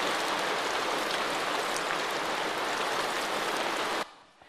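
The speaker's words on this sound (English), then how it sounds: "if it rains, well, the rain will come down and make noises" Steady, dense rain falls close by as an even hiss, loud and unbroken for about four seconds before it cuts away abruptly to near-quiet; no voices.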